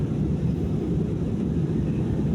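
Steady, loud broadband roar of a passenger airplane heard from inside the cabin, dense low rumble filling the whole clip without pause and no talk over it.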